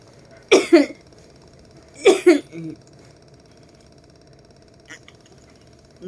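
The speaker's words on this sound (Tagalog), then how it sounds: "Nga malalim, ubo." A person recovering after heart surgery gives two deep coughs, at about half a second and two seconds, close to the microphone in a quiet room, followed by a faint short sound later.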